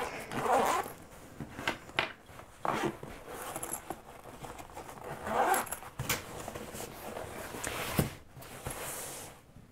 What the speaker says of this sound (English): But you can also then zip them up